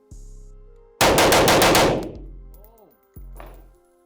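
A loud burst of rapid shots from a DDM47 rifle cracks out in quick succession, then a single further shot follows after a short pause, with faint electronic tones around it.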